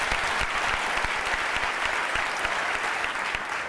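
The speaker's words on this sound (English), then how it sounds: "Let's have a round of applause for our two great congressmen." A large audience applauds two congressmen at a politics and government awards ceremony, a dense, steady wash of clapping that holds loud and even throughout.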